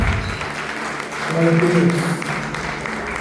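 A church congregation at a Sunday worship service claps under a voice calling out praise, with the applause loud and close and a sung or sustained tone swelling in the middle.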